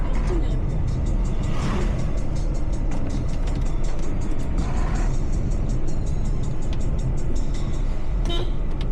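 A car climbs the foggy mountain road from Ooty to Gudalur in third gear. Its engine rumbles steadily through the whole clip, and a horn toots near the end. A voice talks over it.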